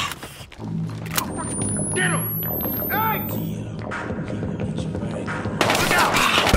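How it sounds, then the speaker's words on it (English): Rapid gunfire from a police shootout in the Battlefield Hardline video game, with dense overlapping shots and bursts throughout, heard under shouting voices and continuous game noise. "13 reporting shots fired"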